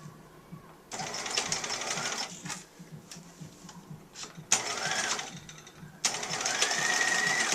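Sewing machine stitching a coat sleeve seam at a 5/8 inch allowance while setting in a tailored sleeve, three close bursts of rapid whirring separated by short pauses with handling noise, fairly quiet.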